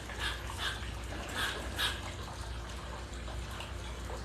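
Squirrels barking at each other outdoors, short repeated chirpy barks in a few bursts over steady background noise and water-like hiss, moderately near.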